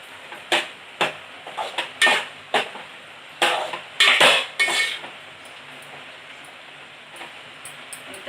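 Marinated prawns stir-fried in a pan, with a spoon or spatula knocking and scraping against the metal in a string of sharp, close clinks and clatters, busy at first and thinning out near the end.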